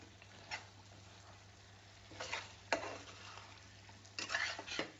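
Egg manchurian mixture being stirred in a pan over low, steady frying sizzle, with a few distinct scraping strokes spaced a second or two apart, close and fairly quiet, no voices.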